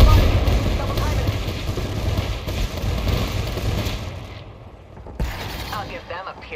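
A frag grenade going off in the video game Apex Legends, a heavy blast rumbling under continuous gunfire and mechanical clatter, then a sudden drop toward quiet before the noise returns.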